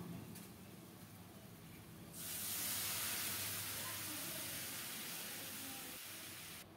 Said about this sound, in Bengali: এখন ফোটানো গরম জল দেব।